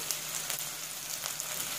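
Chopped onion frying over a medium gas flame, a steady soft sizzle with faint crackles running throughout, close and continuous with no talking.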